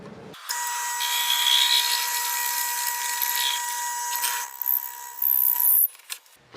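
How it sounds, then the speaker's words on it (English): A lathe turning slowly at 500 rpm drives a bit that drills leftover epoxy out of a Hawaiian curly koa hybrid pen blank, giving a steady high whine with scraping, then stopping abruptly, followed by a few short clatters. "I've got the lathe turned down on 500, so it's going to take this nice and slow"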